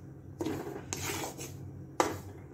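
Flour being roasted in a pan over a low flame is stirred with a utensil, giving repeated scraping and clanking strokes of metal against the pan in an uneven rhythm, close and moderately loud with no talking.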